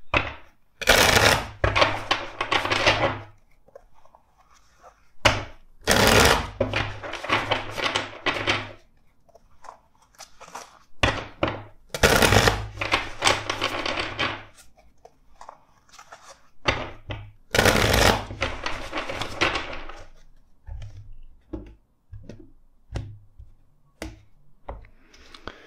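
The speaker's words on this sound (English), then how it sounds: "Let's shuffle four times this other deck." A tarot card deck is shuffled in four distinct bursts of crisp riffling and clacking, each lasting a couple of seconds, separated by quiet pauses, close to the microphone.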